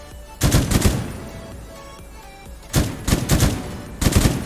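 Gunfire with heavy recoil in a tactical shooter video game: three loud, rapid automatic bursts separated by short pauses, close and alone.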